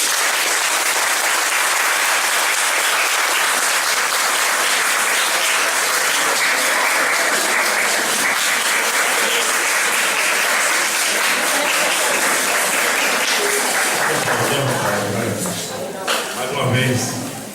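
Sustained, loud applause fills the hall after a seminar at a Spiritist gathering, many hands clapping steadily before the sound thins and a voice begins speaking near the end.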